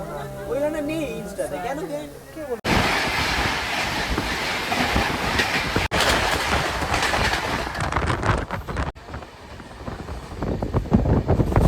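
The Padatik Express (12377, Sealdah to NJP) runs on rails with a crowded general coach. A loud, continuous rumble and clatter of wheels fills the carriage, with sharp shifts as it runs, and people talk briefly before the noise takes over.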